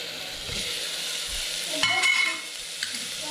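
Crushed ginger, garlic and chopped tomatoes sizzle steadily in a pan, close and fairly loud, with a stirring scrape and a brief sharper crackle partway through.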